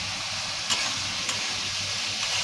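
Spice tempering sizzling in hot oil for chana dal, a steady close hiss and crackle with a couple of brief louder pops, no talking.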